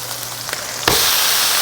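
A two-pound carnivore burger frying in a pan, the sizzle jumping from a quiet crackle to a loud, dense spitting roar that holds steady and close.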